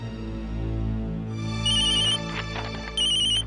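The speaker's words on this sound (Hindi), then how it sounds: "तुम्हारा फोन बज रहा है" A mobile phone ringtone chimes in a home during a Hindi TV drama scene, its repeating electronic melody steady and fairly loud over a low background hum, with brighter pulses recurring near the end.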